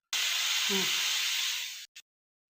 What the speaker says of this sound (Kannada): 1 ವಿಷಲ್ ಆಗಿದೆ, ಆಫ್ ಮಾಡ್ಕೊಂಡಿದ್ದೀನಿ.